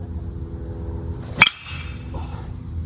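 A Louisville Slugger Atlas BBCOR baseball bat strikes a ball once, a single sharp ringing crack near the middle of an otherwise quiet stretch, followed by a brief fading metallic ring.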